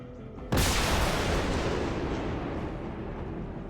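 A rocket strike in the MENACE tactical war game lands as one sudden, loud explosion after a short quiet lead-in, its rumbling boom slowly fading over the next few seconds with no talking.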